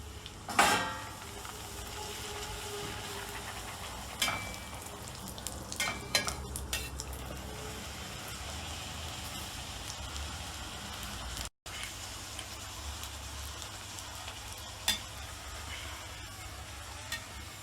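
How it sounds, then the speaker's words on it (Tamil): Pani puri puris deep-frying together in hot oil, a steady broadband sizzle and crackle running throughout with occasional clinks and stirs of a utensil in the pan, close and continuous. "இப்போ நம்ம ஒன்றா போட்டு ஃப்ரை பண்ணி எடுப்போம்."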